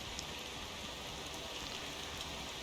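Steady rain in the driving game Motor Town, a dense, even hiss with scattered drop patter that holds constant throughout, with no talk over it.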